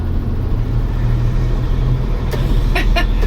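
Low, steady drone of an early-1990s Hino GS or FS truck engine while driving, a continuous rumbling hum with road noise and a few brief clicks near the end.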